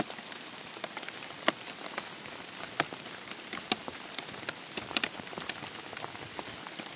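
Monsoon rain falling steadily on a surface at a mushroom site, a dense continuous patter with scattered sharper drop hits, moderately faint and without any voices.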